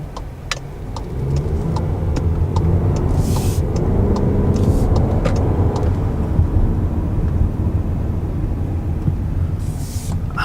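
A 2019 Volkswagen Jetta SEL Premium with a turbo engine drives along, giving a steady, close interior road rumble. The engine note swells as it accelerates around a corner.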